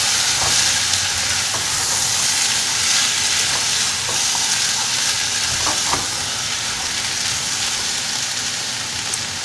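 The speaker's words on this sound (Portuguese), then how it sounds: "Aí vai fritar mais um pouquinho isso daqui." Sausage and tomato fry in a pan with a loud, continuous sizzle close up, like heavy rain, with occasional light clicks and stirring noises throughout.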